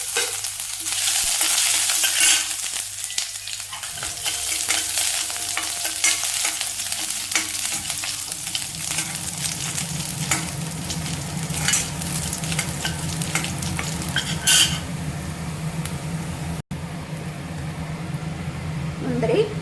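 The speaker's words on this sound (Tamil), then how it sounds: "தேங்காய் சாதத்துக்கு எண்ணெய் காஞ்சிருச்சு, கடுகு சேர்த்துக்கலாம்." Mustard seeds, dried chillies and ginger hit hot oil for coconut rice, giving a steady close sizzle and crackle with stirring scrapes that carries on for a long stretch while a person talks over it.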